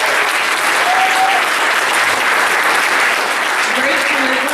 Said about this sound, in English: Let's give a quick round of applause to the people before me